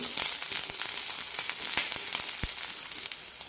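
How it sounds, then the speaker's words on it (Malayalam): Curry leaves and other ingredients sauté in a pan for an onion kurma, giving a loud, close, continuous sizzle with sharp crackling pops and spatter throughout and no voices. "ഒരു മിനിറ്റ് നന്നായി വഴറ്റി കൊടുക്കണം"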